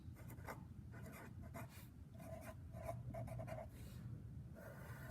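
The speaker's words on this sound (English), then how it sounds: "let's go ahead and draw the lower sum graphs" A pen scratches across paper while graphs are drawn, giving soft, close strokes in short bursts that start and stop in an irregular rhythm. No one speaks over the quiet scratching.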